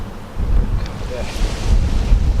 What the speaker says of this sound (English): That wind just hasn't stopped. Constant.